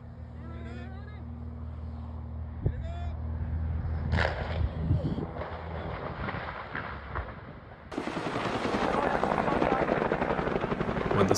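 Helicopter veering into trees in a crash that destroys its rotors: a steady rotor and engine drone, joined by harsh crunching and clattering bursts, turning into a louder, broad roar of debris and wind toward the end.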